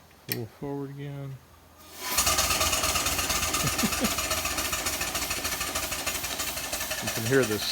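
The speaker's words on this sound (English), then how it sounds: "You can hear the stack talk is what they call that, the sound of the cylinders." A live steam Allen Mogul locomotive chuffs from its stack in a rapid, steady mechanical rhythm that starts abruptly and stays loud and close after a brief spoken phrase, with talk returning at the end.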